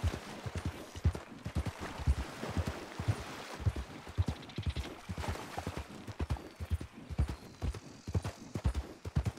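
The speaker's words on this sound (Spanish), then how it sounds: "Primero voy a sacar al caballo." Horse hooves clip-clop in a steady, rhythmic walking pattern in the RedM video game, close and fairly loud throughout, with a brief whinny-like tone mixed in.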